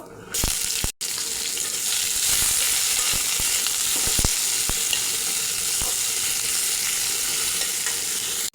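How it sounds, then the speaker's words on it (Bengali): Chopped onion sizzles and fries in hot oil spiced with bay leaf, cinnamon, cardamom and whole cumin for a chicken ghonto, a steady loud crackle with occasional stirring clanks, no voices. "এবার পেঁয়াজ কুচি দিয়ে দেব"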